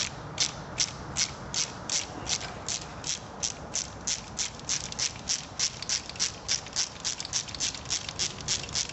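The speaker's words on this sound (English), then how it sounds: "And then we'll just take a ratchet and back it off." A ratchet wrench backs off a bolt on a stabilizer bushing assembly, giving a steady run of quick, evenly spaced clicking strokes, close and fairly quiet, with no voices.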